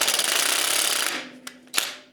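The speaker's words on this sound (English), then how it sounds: "See if the impact will work." An impact wrench rattles hard against the wheel nuts of an antique David Bradley walk-behind tractor, a loud continuous burst that cuts off, followed by two short sharp knocks.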